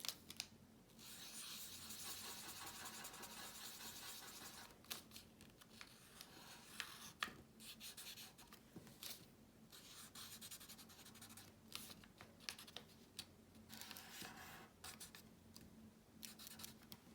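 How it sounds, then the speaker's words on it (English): A pen scratches over folded paper while a face is drawn onto an origami Yoda, giving close, dry strokes in short bursts separated by brief pauses. "And now draw a face"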